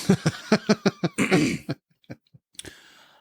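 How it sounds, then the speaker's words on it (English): A run of short, rough throat-clearing bursts in quick succession, close and loud, then a few scattered softer clears after a pause. "Could you possibly clear your throat any fucking more?"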